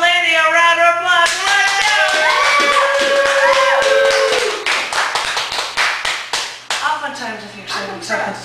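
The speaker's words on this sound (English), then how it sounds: "let's give our lady a round of applause." A small poetry open mike crowd at a Chicago cafe claps, with talk and chatter mixed through the first half before louder, uneven hand claps carry on to the end.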